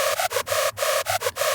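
A detuned Sylenth1 screech lead, with oscillator phase at 224 degrees and detune at 7.5, plays bright, buzzing notes in a choppy rhythmic run of short stabs separated by brief gaps, loud and alone.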